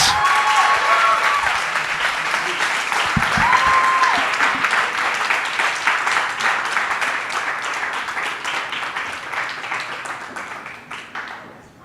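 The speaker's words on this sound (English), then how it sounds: "Let's give another round of applause for the Daniels." An audience applauds after a live comedy performance, with a steady dense wash of clapping that holds loud and close, then slowly thins and fades toward the end.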